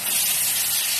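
Boiled dal poured into sizzling fried spice masala for Pahadi mixed dal makes a loud, steady hiss and spray of steam that fills the short moment without pause.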